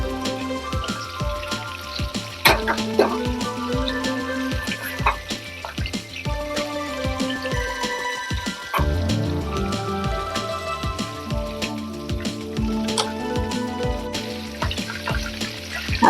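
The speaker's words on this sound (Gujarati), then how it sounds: "આપણે પનીર નાખશું, એને સાંતળવા દઈશું" Paneer sautéing in a pan for paneer lababdar gives a continuous crackling, pattering sizzle like light rain, steady for the whole stretch over a faint tonal background.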